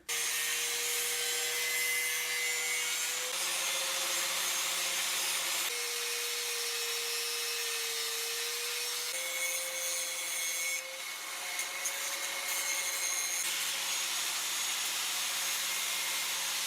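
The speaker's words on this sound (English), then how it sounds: "I'm gonna go ahead and grind that right now." An angle grinder works on metal grill bars for a homemade portable propane fire pit, giving a loud, steady whining drone whose pitch shifts slightly as the load changes, with brief pauses and no voices.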